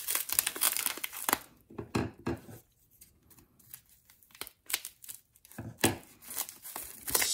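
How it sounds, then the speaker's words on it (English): Foam padding packaging from a sports card mail delivery is handled up close, giving irregular bursts of crinkling, squeaking and rustling separated by quieter gaps. "Some nice foam padding."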